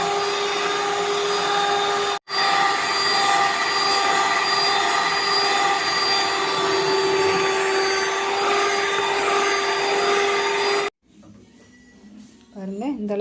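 An electric beater whips cream for a White Forest cake, a steady loud motor whine running almost without a break, with a short pause near the start and the motor cutting off near the end as a voice speaks.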